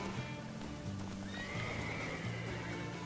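A horse in The Witcher 3 video game whinnies in a long rising neigh while its hooves clip-clop in a steady rhythm, over soft ambient game music.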